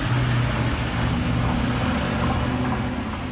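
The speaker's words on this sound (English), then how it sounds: "There's a very loud truck driving by my house." Loud truck passing close by a house, a continuous heavy rumble that holds steady and fades only slightly by the end, with no voices over it.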